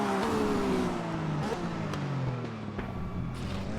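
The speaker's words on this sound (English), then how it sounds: "Javier Vega in that Team Manly Racing Porsche with the RM BMW right behind him in that Castro BMW" Race cars, including a Team Manly Racing Porsche and a Castro BMW, run at a racing event, with loud engines droning and shifting pitch continuously, revving and gradually falling as they pass.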